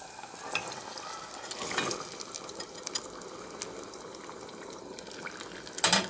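Tomato sauce fries in a pan for pizza, a soft continuous sizzle and bubbling hiss close by, with a few light clicks and a sharper clatter near the end.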